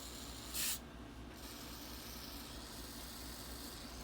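One short, close hiss of lubricant sprayed from an aerosol can onto distributor parts, followed by a quiet, steady background hum.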